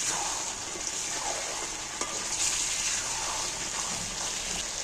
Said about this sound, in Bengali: এইবার একে আস্তে আস্তে ভালো করে কষিয়ে নিতে হবে।